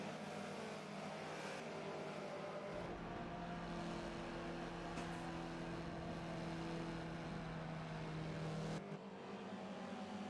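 Toyota 86 race cars roll toward a rolling start at the end of a formation lap at The Bend, a steady, loud drone of engines holding throughout with a brief drop near the end, no speech.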